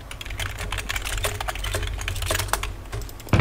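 Rapid typing on a computer keyboard to send a chat message during a Minecraft server game on CraftRise, a continuous close clatter of keystrokes lasting throughout with a louder burst at the end.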